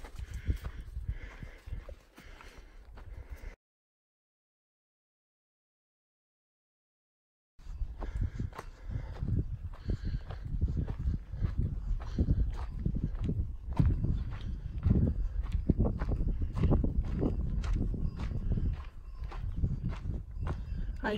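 Horses clip-clop along a mountain trail on the Pacific Crest Trail, a faint uneven patter of hoofbeats that stops briefly, then returns steadier and a little louder.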